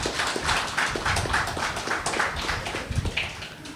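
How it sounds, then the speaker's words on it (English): Audience applause at a closing ceremony, a steady wash of many hands clapping at moderate level, dense and continuous with no voices standing out. "Give yourselves a round of applause."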